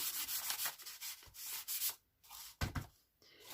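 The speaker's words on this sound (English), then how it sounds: "So I'll just use my embossing buddy on there." An embossing buddy is rubbed over a stamped card in quick, close brushing strokes that come in bursts, then stop briefly before a few more short swipes. No one speaks.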